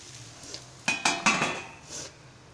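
A plate set down over a rice-flour ghavan cooking on a griddle, giving a few clear clinks and clatters of dishware close by, with no talk.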